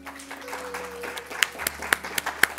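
Audience applause welcoming a speaker to the stage at a photography symposium, a steady wash of clapping from a sizeable crowd with a few sharper claps standing out near the end.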